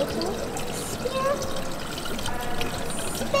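Water trickles and pours beneath a heavy spinning stone sphere fountain at a science museum, a steady liquid wash under a child's and adult's chatter.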